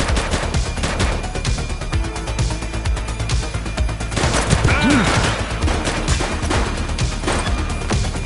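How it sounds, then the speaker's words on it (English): Loud, close gunfire from the police game The Precinct, a rapid string of shots and bursts piling over dense action noise, with a brief whistling tone midway and some shouting in the background. "He's shooting!"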